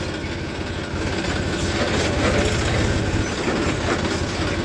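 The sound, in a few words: tractor driving and turning in sugarcane field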